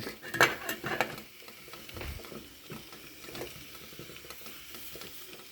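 Pap of maize meal boiling in a pot over an open fire, a soft bubbling simmer with occasional stirring scrapes and clinks near the start, steady and fairly quiet throughout.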